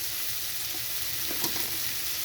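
Potato and pumpkin pieces just added to hot oil in a pan for a bitter prawn chorchori, producing an even, close, low sizzle with a couple of brief stirring clinks partway through, no voices.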